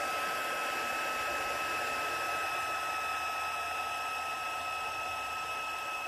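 A heat gun blows a steady, loud whooshing hum with a faint high whine, running continuously and close while heating embossing powder on a papercraft stamp.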